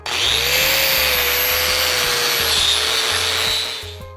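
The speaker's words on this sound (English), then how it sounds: "I'm just going to wire wheel my plate real quick." A power-driven wire wheel scrubs a steel plate clean before welding, a loud, close, continuous whirring grind with a high whine that holds steady and then spins down at the end.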